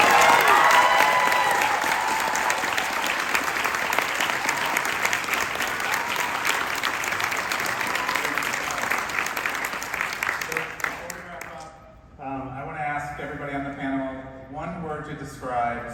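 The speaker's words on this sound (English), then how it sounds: "I think we should all clap for them." Convention panel audience at New York Comic Con 2022 applauding loudly and steadily for about ten seconds, a dense crowd of clapping that fades out before people begin talking.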